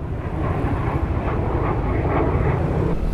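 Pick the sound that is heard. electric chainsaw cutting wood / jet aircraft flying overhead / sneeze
jet aircraft flying overhead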